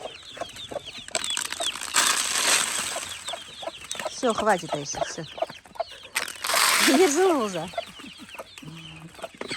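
Farmyard chickens cluck steadily in short, repeated bursts while being fed grain, with a voice and someone talking over them at close range.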